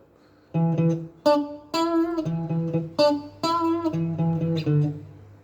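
An electric guitar picks a riff slowly, one clear note or short chord at a time in a steady, halting rhythm, loud and close with no voices.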